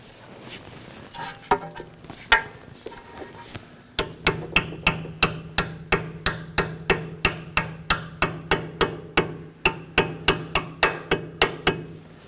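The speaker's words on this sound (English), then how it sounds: "I'll be using a hammer again." Steady, evenly spaced hammer strikes ring out close by, about two per second, after a few scattered knocks at the start, while installing a brake hose clamp on a 2013-2019 Nissan Sentra.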